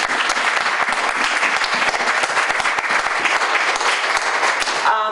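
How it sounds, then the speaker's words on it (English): Steady applause fills a senior center ceremony honoring a new Boston Post cane holder, dense clapping sustained and loud throughout with no talk over it. "Big round of applause"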